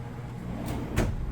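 A pull-out pantry drawer in an RV kitchen soft-closes: a short slide and a muted thump near the end, close and clear with no talking.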